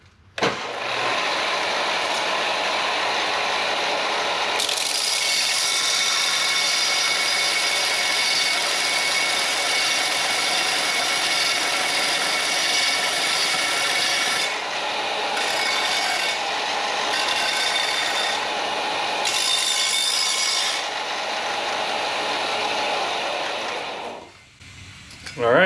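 Stainless steel exhaust tubing ends being faced off and bevelled, a loud continuous grinding rasp that cuts out briefly several times before stopping near the end.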